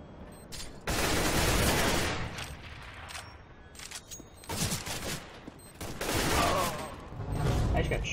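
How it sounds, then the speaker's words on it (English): Counter-Strike: Global Offensive gunfire erupts in loud, dense bursts of automatic fire and booms, rising and falling across the whole stretch, with brief pauses between volleys. "I just got shot off of a freaking"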